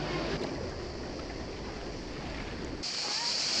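A boat docking at a small pier in Krka National Park, Croatia, gives a steady, fairly quiet broadband rush of engine and water that shifts slightly near the end.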